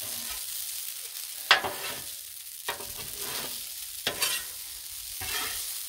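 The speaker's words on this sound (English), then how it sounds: "we're going to need to attempt to mix it in the pan" Shrimp scampi is stirred in a pan on a Blackstone griddle: a steady close sizzle broken by four or five sharp scraping, clattering strokes of a utensil against the pan, with no voices.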